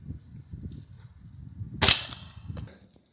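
A Hornet .22 air rifle pellet strikes and passes through a 3/4-inch pine board with one sharp, loud crack, standing out against a low, rumbling background.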